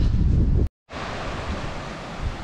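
Strong mountain wind gusts roar as broad rushing noise against the microphone, cutting out briefly before the blustery buffeting resumes, loud and close with no voices.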